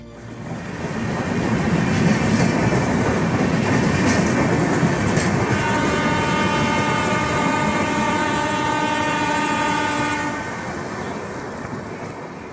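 A train arriving at Bishnupur station rumbles in close and loud with a steady rolling clatter, while a sustained horn-like tone sounds midway before the noise eases and fades out.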